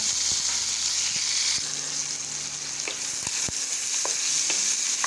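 Chopped onion and garlic frying together in hot oil in a pan for a stir-fried noodle snack, a steady close sizzle broken by sharp pops, spatters and scraping stirs.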